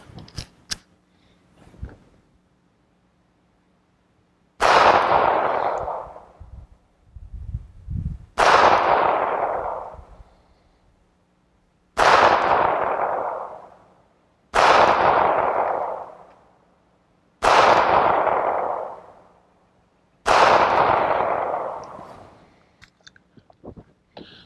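A Ruger LCP pistol fires six rounds at clay targets on a shooting range, each shot a loud, sharp crack with a ringing tail, spaced a few seconds apart outdoors.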